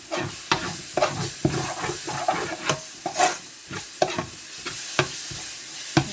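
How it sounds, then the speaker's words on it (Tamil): Curry leaves and masala sauté in a pan for a South Indian boti curry, with a crackling sizzle under a quick, regular series of spoon strikes and scrapes against the metal, close and fairly loud. "வந்து நான் கொஞ்சம் கருவேப்பிலை போட்டுக்கிறேன். நல்லா கிண்டி விட்டுக்குவோம்."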